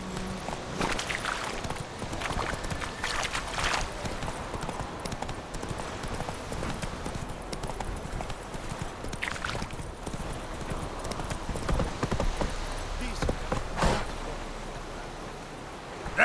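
Roach, the horse in The Witcher 3, clip-clops along with steady, close hoofbeats against a constant broad ambient wash, with no talking.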